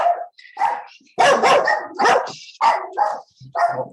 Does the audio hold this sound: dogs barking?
yes